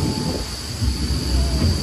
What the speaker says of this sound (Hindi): वहाँ से भी ट्राम आ रही है